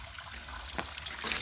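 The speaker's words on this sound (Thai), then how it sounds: "เห็นบ่น้ำไหลออกก้นแบบสะดวกเลยค่ะ" Water drains through holes punched in the bottom of an old oil drum, a faint close trickle and splash that swells toward the end, with no voices.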